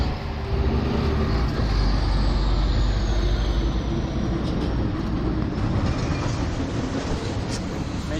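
Steady low rumble of trucks passing on a road at night in San Felipe, Zambales, continuous and fairly loud, with a faint high whine drifting across.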